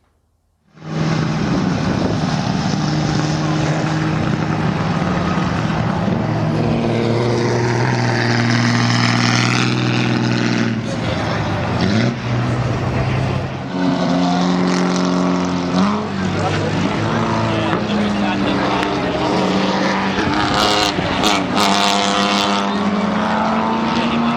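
Classic pre-war racing cars at Le Mans Classic roar past one after another, engines rising and falling in pitch as they pass at close range, loud and continuous, while a commentator talks over them.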